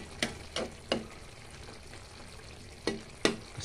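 Tuna sautéing in coconut milk in a pan, a soft continuous sizzle broken by several sharp utensil scrapes and taps at irregular intervals, close and fairly quiet.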